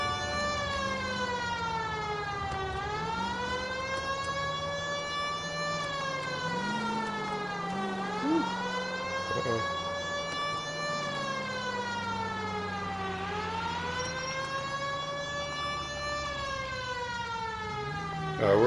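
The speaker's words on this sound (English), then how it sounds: "We're coming in there with our sirens on." A police car siren wails in the video game L.A. Noire, rising and falling in long sweeping cycles close by and loud for the whole stretch, with low engine drone and faint game sounds underneath.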